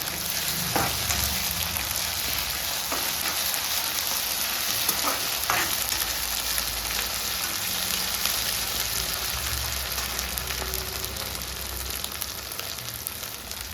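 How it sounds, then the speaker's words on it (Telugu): Onions, green chillies and ginger-garlic paste fry in a pan for chole masala, giving a steady, close sizzle with occasional stirring scrapes throughout, and no voices. "ఉల్లిగడ్డలు, పచ్చిమిర్చీలు, 1/2 స్పూను అల్లము తెల్లబాయి పేస్ట్, కొద్దిగానే చాలు. అది కూడా కొద్దిసేపు మంచిగా ఫ్రై కావాలి."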